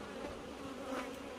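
Honey bees swarming at a wild hive in the Jamaican hills, a steady dense buzz close by, faint and continuous with no talking.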